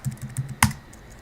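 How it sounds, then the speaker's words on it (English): Someone types on a computer keyboard, a quick run of light key clicks followed by one louder keystroke, close and clear with no talking. "Typing it in the chat."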